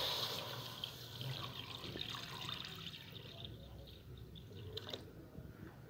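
Three glasses of water poured into a wok holding jaggery, giving a soft, steady splashing gush for several seconds, quiet and close.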